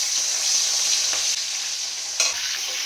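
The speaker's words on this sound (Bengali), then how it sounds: "মাছের মাথাগুলোকে আমি ভেজে নিলাম" Katla fish heads sizzle in hot oil, a loud, steady hiss that fills the space up close, with a couple of brief spatula clicks as they are turned, and no voices.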